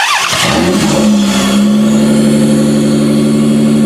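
A 1992-1996 Toyota Camry V6 running on a standalone wiring harness cranks and fires, then settles into a loud, steady idle with a strong low hum, heard up close with no talking.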